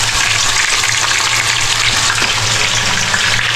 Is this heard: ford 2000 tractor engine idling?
no